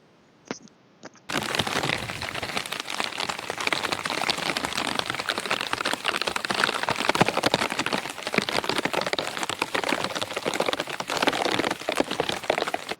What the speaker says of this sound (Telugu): వర్షం అయితే స్టార్ట్ అయ్యి అసలు తగ్గడం లేదు